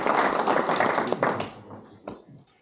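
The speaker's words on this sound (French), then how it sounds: "on peut l'applaudir pour son installation" Applause at a municipal council meeting, a dense burst of clapping from a roomful of people that thins out after a second or so, leaving a few scattered last claps and faint room noise.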